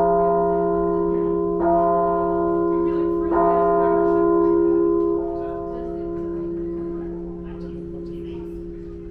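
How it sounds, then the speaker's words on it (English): A bell cast to match the Liberty Bell in material and size rings out at a museum, loud and close. Several strikes land about every two seconds, each starting a long, rich hum that slowly fades. "This is what the Liberty Bell would sound like."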